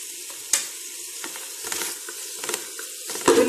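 Sliced tomato rounds and white cumin seeds hit a hot pan with a steady sizzle, broken by sharp spatula scrapes and stirring clatters, close and moderately loud with no talking.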